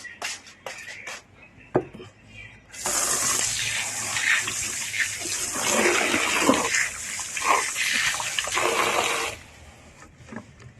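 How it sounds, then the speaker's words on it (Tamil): Water poured over freshly sown seeds in a garden plot, a steady splashing gush lasting several seconds with a few short knocks and splatters before and after, close and moderately loud. "உயிர் தண்ணி கொஞ்சம் கொடுத்துருவோம்."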